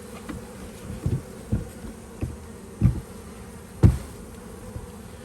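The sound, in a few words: honey bees buzzing in a hive box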